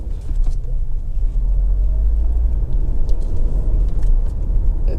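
A 2.0 i-VTEC Honda CR-V EX 4WD drives along, a steady low engine rumble with road noise, close and fairly loud, with no talking.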